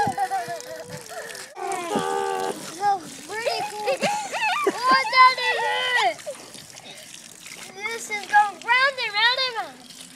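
Well water splashes and sloshes while excited children's voices chatter and squeal over it.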